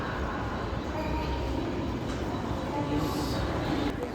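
The Gujarat Express stands at Mumbai Central station amid a steady, loud rail rumble and platform hum, with faint metallic squeals rising near the end.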